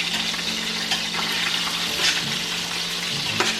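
Breaded chicken parm cutlet frying golden brown in a pan, a dense, steady close sizzle and bubbling of hot oil, with occasional soft shifts as it cooks.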